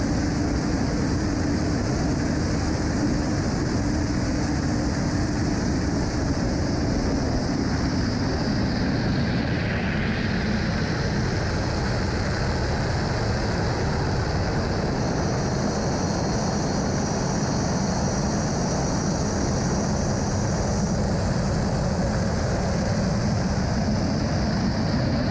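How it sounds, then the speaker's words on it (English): Aircraft at a Giro d'Italia air display roar overhead in a long, loud, sustained drone, the pitch sweeping as a plane passes by around the midpoint, with no voices. "Here's a good video I flogged off Twitter, which was the Giro plane show before the start yesterday."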